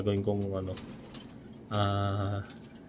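A racing pigeon coos close by in two separate calls, a longer one first and a second after a short gap. Each call is a deep, throaty, resonant tone.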